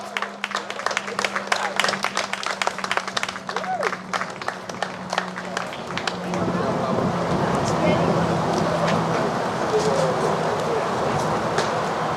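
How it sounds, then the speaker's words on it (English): Audience applause at a DDS/NVA event as a group is called up to the stage, dense clapping that swells and fills the room for several seconds, with murmured crowd noise and a steady hum underneath. "Give them a round of applause."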